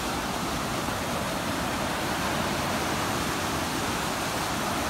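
Sea of Japan waves rolling onto a sandy beach form a loud, unbroken roar of surf, even and dense throughout with no distinct individual breakers and no voices.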